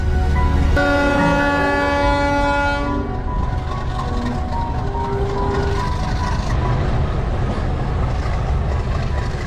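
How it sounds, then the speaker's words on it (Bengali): The Modhumoti Express, running with an old vacuum-braked rake, sounds a long, loud horn while pulling out of Talma station, then the horn fades into a steady rumble of the train and wheels moving off. "হয়তো আর 1 মিনিটের মধ্যেই ট্রেন ছেড়ে দেবে।"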